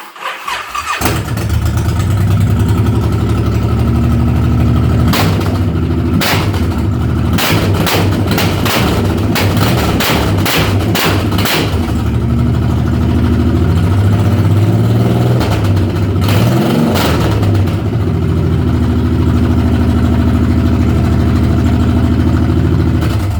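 A Honda VTX1800 N3 cruiser with 69k miles cranks and fires up, settling into a loud, deep, lumpy idle with bursts of throttle blips in the middle, heard close and alone.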